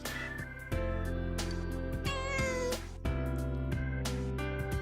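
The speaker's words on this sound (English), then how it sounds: "Time will pass if you play with a cat." A cat in the Persona 4 Golden video game meows repeatedly over looping game music, several drawn-out calls rising and falling, close and fairly loud.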